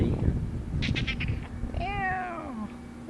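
A cat gives one drawn-out, falling meow close by in a home garden, preceded by brief rustling and a quiet voice.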